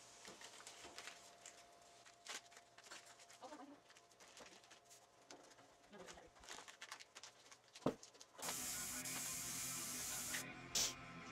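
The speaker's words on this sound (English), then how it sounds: "It's putting down a flat spray pattern, 3 inches wide." Paasche Vision airbrush with a fan cap spraying paint: after scattered clicks and handling noises, a loud, steady hiss of spray starts and holds for about three seconds, briefly louder near the end.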